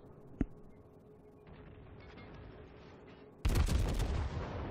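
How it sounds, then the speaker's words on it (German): Naval shells firing in World of Warships from the heavy cruiser Admiral Hipper: one sharp distant report early, a low rumbling lull, then a loud salvo that booms and rolls on to the end. "Da kommen schon die nächsten Granaten an."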